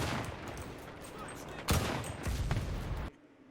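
Gunfire in a Battlefield video game: a dense, loud burst of rapid shots with a sharp, heavier impact partway through and another cluster after it, ending abruptly in near silence.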